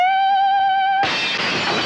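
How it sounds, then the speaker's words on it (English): Glass shatters loudly and abruptly right after a sustained sung high note, a bright crash and tinkling spill of fragments that fills the second half after a steady held tone. "I hit such a perfect note, it busted the glass."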